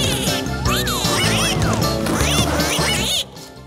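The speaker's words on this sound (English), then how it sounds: "Let's give a warm round of quacks for the Daredevil Ducks!" Cartoon ducks from an animated kids' show quack loudly and continuously over a busy music bed, rising and falling calls stacking for about three seconds before cutting off abruptly.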